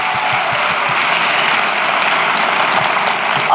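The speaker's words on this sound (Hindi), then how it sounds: "तो एक बार जोरदार तालियां अपने लिए बजा लीजिए।" Steady, dense audience applause at a live motivational talk, many hands clapping together at an even loudness throughout, with no talking over it.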